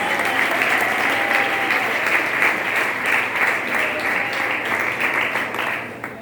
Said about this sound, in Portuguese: Pode bater palmas para Deus.